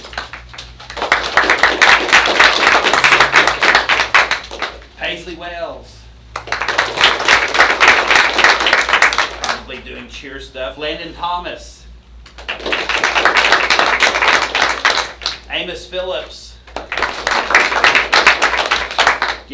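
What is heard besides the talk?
audience applause for students receiving certificates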